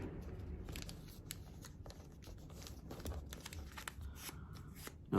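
Colored paper is folded by hand: close, soft crinkles and crisp creasing snaps, repeated irregularly against a faint steady hiss.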